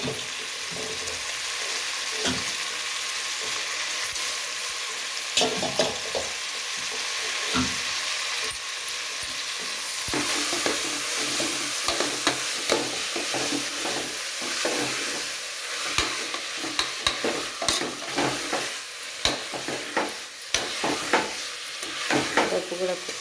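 Washed lentils frying and being stirred in a pan for fenugreek dal, a steady close sizzle broken by frequent scraping spoon strokes that grow busier toward the end, with no talking.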